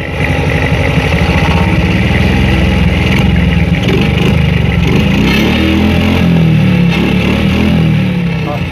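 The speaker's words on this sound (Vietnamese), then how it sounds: "Rồi mở ra mà nghe cái tiếng thọt thọt này là biết bơm nhớt nó bơm mạnh rồi." Honda Cub 81 50cc motorbike engine running with its oil pump working, a loud, close, steady idling putter with a rhythmic thumping that holds for the whole stretch, a voice talking over it.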